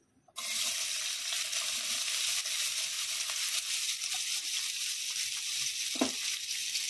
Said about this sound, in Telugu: ఆయిల్ వేడైన తర్వాత ఆనియన్స్ వేసుకోవాలండి.